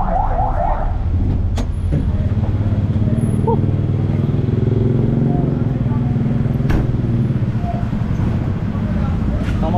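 Motor vehicle engine noise, likely a passing motorcycle, rumbles close by with a loud, steady drone throughout, with people talking over the traffic.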